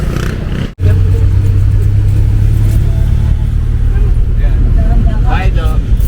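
A jeepney engine rumbles steadily and loudly while riding toward Plaridel in the Philippines, a continuous low drone from inside the vehicle with people talking over it.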